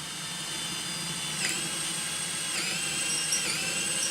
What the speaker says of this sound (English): It's a good solid piece of wood, and it drills pretty damn good